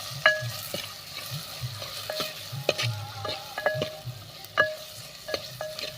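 Vegetables with red chilli powder, homemade masala and turmeric sauté in a pan for bajra millet khichdi, a soft frying sizzle broken by repeated sharp metallic scrapes and clinks of a spoon stirring, close and without talk.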